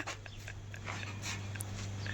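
Pet dog panting close by in quick, soft, rhythmic breaths over a low steady hum.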